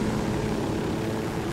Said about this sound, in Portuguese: Sobe, helicóptero.